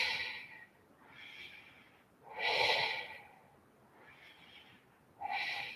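Slow, deep breaths drawn in and let out during a yoga pose, each broad airy rush swelling and fading at an unhurried pace, close and fairly quiet with no talking.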